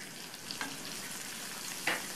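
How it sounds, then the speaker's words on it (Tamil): Crushed garlic sautéing in oil with curry leaves and asafoetida, a faint, even frying hiss with a couple of light spoon clinks, quiet and without voices. "இந்த பூண்டு நல்லா எண்ணெயிலேயே வதங்கி வாசனை வரும், அது வரைக்கும் வதக்கிக்கலாம்"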